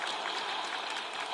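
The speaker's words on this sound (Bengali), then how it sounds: "তার জন্য একটা জোরে হাততালি" Loud, dense applause from a crowd at a public address, steady and sustained throughout with no pauses, honoring an injured person who stands up in the audience.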